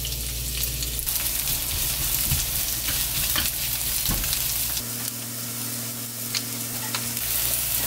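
Chopped green onion goes into hot cooking oil in a pan and is stir-fried, giving a loud, steady close-up sizzle with scraping and stirring clicks throughout. No one speaks.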